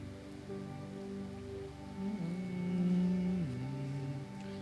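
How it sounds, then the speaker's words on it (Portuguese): Steady rain patters faintly beneath sustained tones of music at an indoor worship session. "A chuva tá top, né, gente?"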